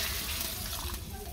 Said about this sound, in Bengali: পরিমাণ মতো জল দিয়ে দিই।